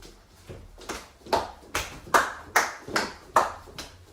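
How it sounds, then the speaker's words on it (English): Campers clap together in time while running through a dance, about nine sharp, evenly spaced claps building in strength, each with a short ringing tail, with no talking. "while running, we will be clapping to the beat"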